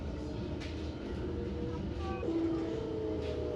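A Belgian Kusttram coastal tram rolls into De Panne station with a steady low rumble, a faint squeal of wheels on rail and soft clicks, moderately distant and continuous.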